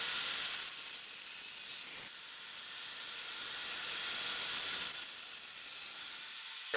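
Aerosol carb cleaner sprays in two sustained hissing bursts into a drilled hole in a homemade brake bleeder valve, each burst loud and close, separated by a short pause.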